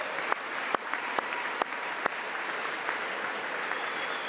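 Applause fills the chamber of Congress during a presidential address to a joint session, a steady wash of many hands clapping at a distance, broken by a few sharper isolated claps.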